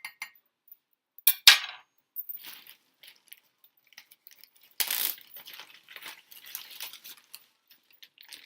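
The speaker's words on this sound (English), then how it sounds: "Here goes the tablespoon of white sugar." A tablespoon of white sugar goes into a kitchen bowl, with a few sharp metal spoon clinks and taps close by, then softer scattered scraping and rattling against quiet gaps.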